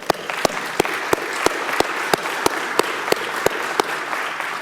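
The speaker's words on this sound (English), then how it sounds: "So I just want to applaud them for that." Applause at a weekly club meeting, a steady spread of clapping with one or two louder claps landing in a regular beat above the crowd, sustained for several seconds with no talk.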